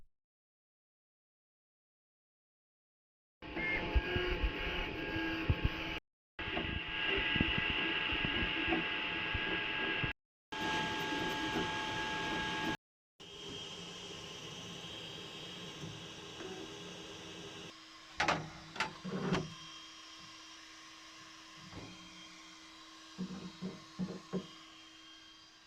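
A 3D printer runs with whirring motors and steady buzzing hum, broken by short pauses, then quieter hum with occasional clicks and knocks.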